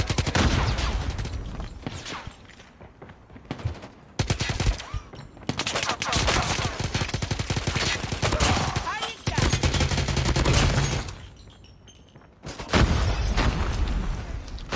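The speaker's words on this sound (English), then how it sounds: "why are you throwing grenades at me?" Gunfire and booming grenade blasts in a Call of Duty Mobile ranked match come in loud, dense bursts separated by brief lulls, close and harsh, with no voices.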